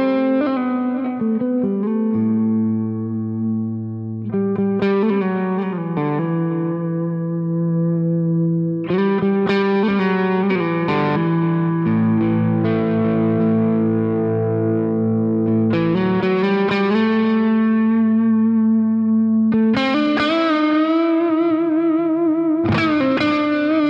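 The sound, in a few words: Nova Go Sonic electric guitar, neck humbucker pickup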